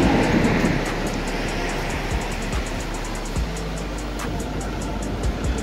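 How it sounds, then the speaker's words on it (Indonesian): Steady low rumble of a train at a railway station in South Korea, with rhythmic clicking over the rails, continuous and fairly loud throughout, no voices. "Ini ada stasiun kereta guys."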